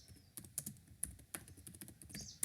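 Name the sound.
typing on a computer keyboard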